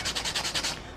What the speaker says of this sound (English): So I'm going to sand this little divot off the end